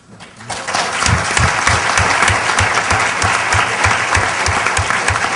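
A large audience at a conference session bursts into loud, dense applause for an honoree, the clapping swelling quickly and holding steady as a continuous roar.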